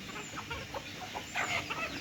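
Laying hens and a rooster cluck and chatter close by in short bursts, a busy poultry yard with a few louder squawks toward the end.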